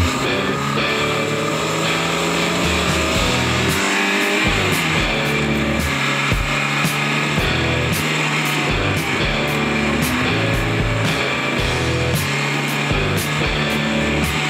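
A Renault 5 Alpine's engine hums loudly from inside the cabin, with the tone rising and falling as it drives and shifts through gears, plus rattles and clicks.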